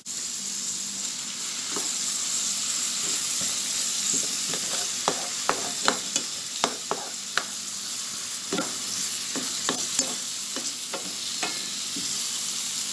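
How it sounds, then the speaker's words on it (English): Vegetables and seasoning sautéing in about two tablespoons of coconut oil for a vegan pigeon peas stew, a steady close sizzle with frequent sharp scraping stir strokes against the pan, no voices. "I'm gonna saute the veggies and the seasoning in about 2 tablespoons of coconut oil"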